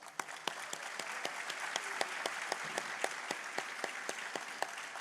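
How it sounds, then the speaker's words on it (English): Audience applause at a 12th grade graduation ceremony, a steady wash of many hands clapping with sharper individual claps standing out, moderately loud and sustained throughout without talk. "A big applause."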